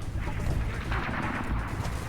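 Enemy gunfire in Soldier of Fortune: Payback, a fairly faint, steady crackle of shots from somewhere unseen, with no voices over it.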